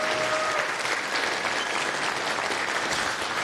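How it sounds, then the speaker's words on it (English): A crowd at a tech talk event applauds steadily, a dense wash of clapping that holds at an even, fairly loud level throughout. "let's give up a big round of applause for Francesc and for Margie"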